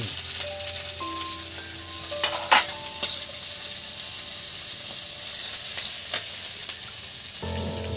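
Sliced onions and very hot green chilies fry in a pan for chirer pulao, a soft steady sizzle broken by a few sharp spatula scrapes and clinks, close and otherwise quiet, with no voice.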